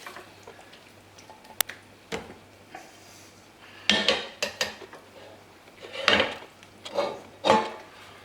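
Fish pie filling is spooned into a baking dish, with scattered utensil knocks and scraping against the dish that grow busier and louder midway, coming in close, irregular bursts.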